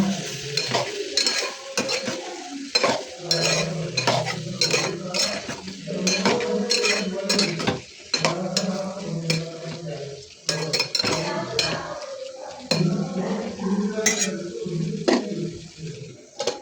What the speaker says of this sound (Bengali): এবার নেড়ে ছেড়ে ভালোভাবে কষিয়ে নিচ্ছি।